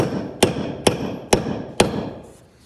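An axe head is being hammered onto its wooden handle. Four sharp, evenly spaced blows ring out close up, each decaying quickly, and then the strikes stop.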